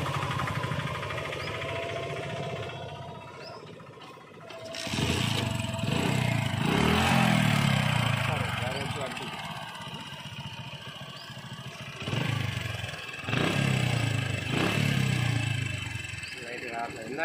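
A Hero Honda CD Deluxe 100cc motorcycle engine idles steadily after being restarted, its low running drone continuous under close conversation.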